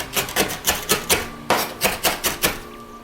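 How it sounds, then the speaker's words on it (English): Knife chopping ingredients on a cutting board for a spicy tomato chili sauce (sambal tomat), a quick steady run of crisp close thuds, about a dozen strokes with one brief pause midway. "I'm gonna chop them finely"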